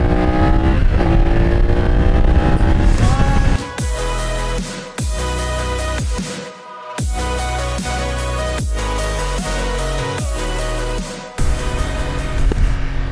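A BMW F900R motorcycle ridden hard, its engine loud and close, climbing in pitch through repeated accelerations with brief dips at each gear change.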